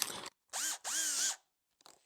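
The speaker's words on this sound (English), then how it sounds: "you can use different size of drill bits like so to drill holes in every material you want" A power drill boring holes whines in three short bursts, two long close high-pitched runs with rising motor tone followed by a brief weaker spin, separated by silence.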